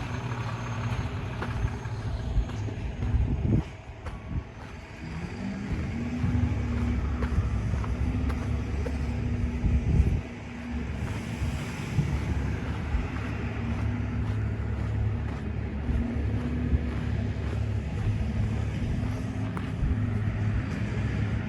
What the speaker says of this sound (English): So it's a Sask power truck and a garbage truck.